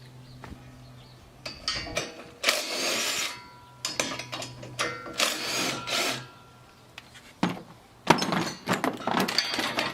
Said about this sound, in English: now I'm going to remove two on the other side